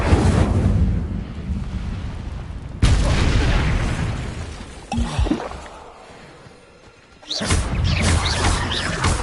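Incendio fire spells cast in a Hogwarts Legacy battle, loud roaring bursts and booming blasts layered with rushing wind-like noise, a short lull and then another heavy eruption.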